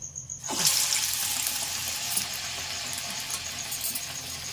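Vada batter dropped into hot oil for dahi vada, a sudden onset of loud, dense, hissing sizzle that holds steady and close throughout, no talk over it.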